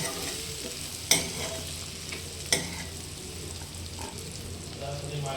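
Spiced lima bean pod curry is stirred in a pan over a gentle sizzle, with two sharp clanks of a spoon against the metal rim and a few softer scrapes.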